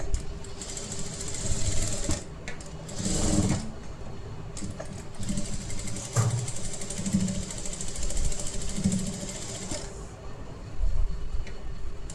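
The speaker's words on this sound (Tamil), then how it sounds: "கட் பண்ணி ஆனதுக்கப்புறம் ஃப்ளாட் ஸ்டிச் போட்டுக்கோங்க ஒன்று" A sewing machine runs a flat stitch on a blouse, buzzing in steady bursts with short pauses between runs, its rhythmic mechanical chatter close and clear.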